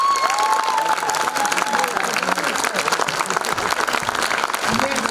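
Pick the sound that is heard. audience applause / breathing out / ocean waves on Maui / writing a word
audience applause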